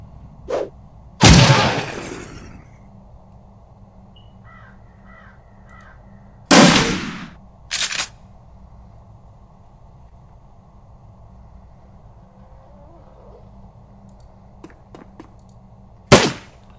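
In Shadowrun Returns, a grenade blast and shots ring out as a few sharp, loud cracks several seconds apart over a low, steady game hum, one burst trailing a brief decaying rumble.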